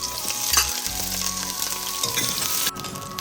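Garlic and onion fry in sesame oil with a loud, steady sizzle, crackling dense and close throughout with soft stirring scrapes and a brief dip near the end.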